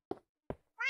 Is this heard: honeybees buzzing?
no